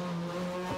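A rally car's engine at the Monte Carlo Rally, Lantosque–Lucéram stage, held at a steady droning rev for under a second, fairly faint and with no talking.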